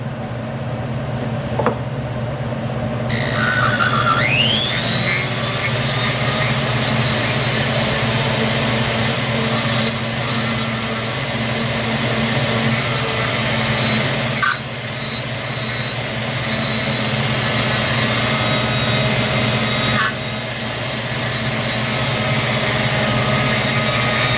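A Vevor flex shaft rotary tool runs continuously with a loud, high, whining motor hum that rises in pitch as it spins up and stays fairly steady, close up, with no talking.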